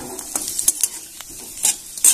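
Potatoes fry in a pan with a soft sizzle, broken by a few sharp scraping and clinking stirs that come close and fairly loud over about two seconds.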